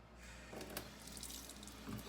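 A kitchen tap runs steadily for about two seconds, with a close splashing rush of water filling a pot or sink at low volume.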